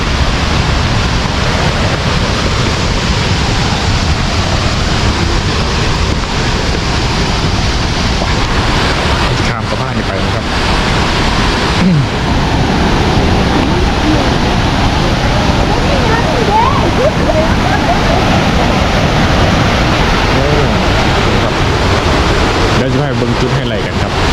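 The Tad Yeuang waterfall in southern Laos pours down in a loud, constant roar of rushing water. The sound is close and dense, with wind buffeting the microphone throughout.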